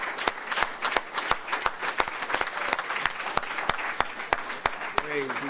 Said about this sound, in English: Let's give all those that came a warm round of applause